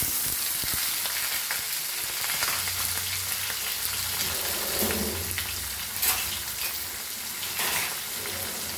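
Paneer goes into homegrown baby spinach frying in a pan, and a dense, loud sizzle carries on throughout, with a few utensil knocks and stirring sounds and no speech.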